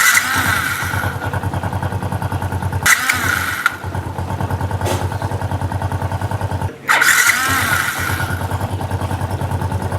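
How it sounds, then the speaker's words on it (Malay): A Yamaha LC5S motorcycle engine, freshly rebuilt with a new top set and clutch, idling steadily up close, with a rapid rhythmic putter and a few brief revs and dips. "Jom kita dengar bunyi enjin selepas ni."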